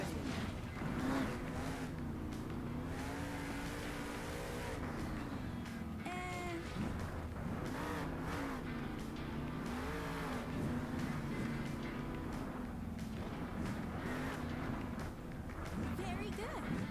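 In a truck driving video game, an engine hums steadily and shifts pitch as the truck moves and brakes. Instructional speech runs over it almost the whole time.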